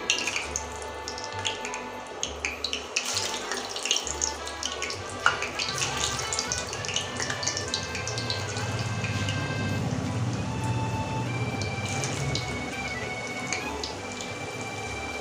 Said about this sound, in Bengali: দেখুন তেলটা ফুটতে শুরু করে দিয়েছে, এখন এই রিং পকোড়াগুলো ছেড়ে দিচ্ছি।